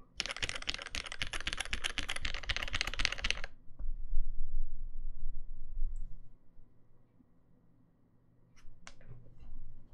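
Typing on a mechanical keyboard with Cherry MX Black switches: a dense, steady run of loud, close keystroke clacks for about three and a half seconds, then near silence with a few faint isolated clicks.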